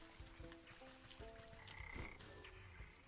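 Frogs croak in the Wytchwood game, a chorus of overlapping short croaks and tonal calls in a quiet, faint ambience with no voices.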